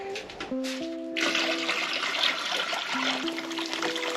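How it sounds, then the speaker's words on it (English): Hot water pouring into a container to cover a shoe for dyeing, a steady rushing splash that starts after a short musical intro and continues to the end, with music over it. "you're gonna wanna put enough hot water to cover the whole shoe"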